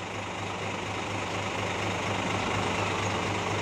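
Bagindo Trans coach bus from Padang, West Sumatra, heard nearby as a steady low engine drone with broadband rumble, continuous and fairly loud, no voices.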